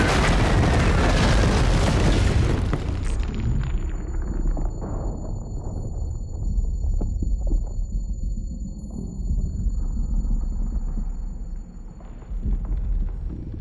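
A loud explosion in the video game Alone in the Dark: an initial booming blast that decays into a long rumbling tail with scattered debris crackles, over a steady electronic tone.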